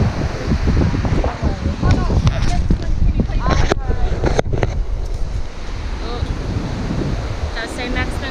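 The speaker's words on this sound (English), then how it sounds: "You got the Whitewater Rapids." Whitewater rapids rush beneath a crowded suspension bridge on the Hooker Valley Track in New Zealand. The roar is loud and continuous, buffeted by gusts of wind noise on the microphone.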